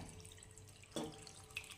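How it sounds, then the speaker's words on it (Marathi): Water poured into a kadhai of leafy fasting greens on a gas stove gives a short splash near the middle, with a smaller one after, quiet over a low background hum. "भाजीमध्ये पाणी टाकून घ्यायचं ह्या"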